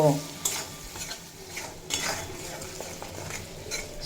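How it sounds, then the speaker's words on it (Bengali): Turmeric and Kashmiri chilli powder fry in a pan for drumstick and potato curry, giving a low continuous sizzle broken by repeated scraping stirs and light utensil knocks against the pan, with no talk. "আর সামান্য কাশ্মীরি লঙ্কার গুঁড়ো দিয়ে এক দু মিনিট মতো ভেজে কষিয়ে নেব"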